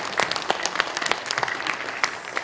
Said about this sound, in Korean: 윤상현 위원장 국회의원께 다시 한번 박수로 감사할 수 있습니다